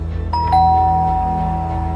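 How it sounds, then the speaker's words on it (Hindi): A doorbell rings indoors late at night with a clear two-tone ding-dong chime, loud and close, over a low steady hum, with no talking. "दरवाजे की घंटी बजी।"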